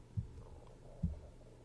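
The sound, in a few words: stomach growling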